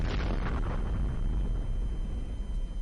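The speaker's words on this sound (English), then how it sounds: "And that's another explosion." Explosion in the Minecraft video game, a loud, dense boom followed by a long rumbling roar that holds steady for a few seconds without any voice over it.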